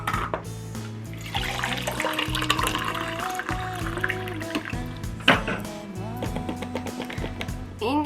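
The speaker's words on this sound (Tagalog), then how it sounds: "Try ko po, lagyan ko ng tubig." Water is poured into a spill-free suction mug, a steady liquid trickle heard beneath louder background music.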